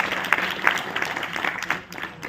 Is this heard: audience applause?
yes